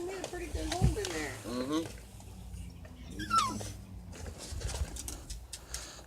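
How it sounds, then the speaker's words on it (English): A dog whimpers in short, high, whining bursts indoors, the cries fading in and out over background noise and some muffled voices. "The dog's all whimpering."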